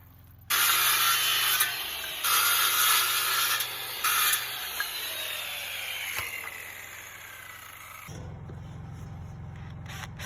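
A power saw cuts wooden pieces for a fence in bursts of loud, harsh whine with short gaps between them, followed by a lower hum at the end.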